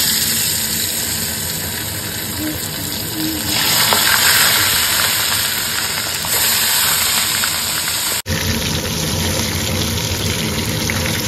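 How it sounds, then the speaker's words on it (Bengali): Fish fries in a pan with a loud, continuous sizzle and crackle that swells midway, breaks off abruptly for a moment and then resumes just as strongly. "এবার মাছটা ভেজে নিই আমি।"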